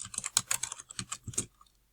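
A computer keyboard clatters in quick bursts as a sentence is typed into a Google Doc, uneven keystrokes close to the microphone that stop abruptly near the end.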